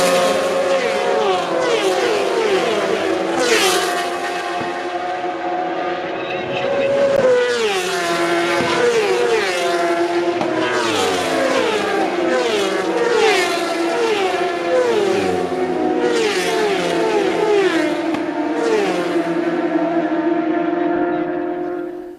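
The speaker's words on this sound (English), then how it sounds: "the Northwest 200 race, which is for the superbikes. So we'll give you the first lap of that" Superbikes racing on the roads of the North West 200 in Northern Ireland, their engines screaming loudly as they pass at speed. Rising and falling revs and gear changes continue throughout, with no clear gaps.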